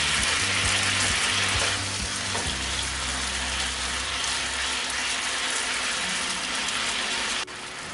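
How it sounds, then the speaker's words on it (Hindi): Chicken sizzles steadily in a pan over a medium flame, a dense continuous close frying hiss with a low hum underneath and no talking. "अभी मैंने फ्लेम मीडियम रखा हुआ है और मैं इसको उसके कलर चेंज होने तक पका रही हूँ।"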